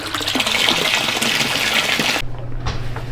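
Water gushing into a hot tub through its outlets, a steady loud pour that drops to a quieter low trickle near the end.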